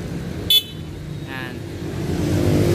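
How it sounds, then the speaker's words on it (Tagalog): A single short, high-pitched beep from the small stock horn of a 2021 Aerox 155, with a faint second chirp over a steady idling engine. "stock horn"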